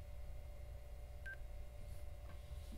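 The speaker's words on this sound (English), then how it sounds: "Just a little beep, no voice or anything." A single short electronic beep from a budget sport Bluetooth speaker as it pairs with a phone, brief and fairly faint over a steady low background hum, with no voice.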